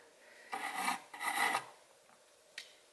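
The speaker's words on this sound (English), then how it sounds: "It actually rubs right across on the front of the mock-up alternator." An object scraping across the front of a mock-up alternator during an alternator relocation fit-up on a Vortec 4200 in a Volvo wagon: two close, raspy strokes followed by a brief faint scrape.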